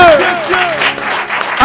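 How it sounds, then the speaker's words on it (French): Audience applause welcoming a singer onto a studio show stage: loud, close clapping from a crowd, with a voice and music overlapping at the start and end. "je vais vous demander d'applaudir pour recevoir Monsieur"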